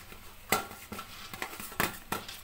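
Rosbora sweet dough being mixed with milk in a bowl, a spoon knocking and scraping against the sides in irregular light clinks and taps, close and quiet with no talk.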